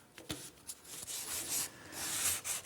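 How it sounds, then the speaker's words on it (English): Wood being sanded by hand with coarse 80-grit sandpaper, a series of rough, scratchy rubbing strokes close up, irregular in rhythm and quiet overall. "I'll start with the coarse sandpaper, in this case 80, and keep sanding until everything's smooth"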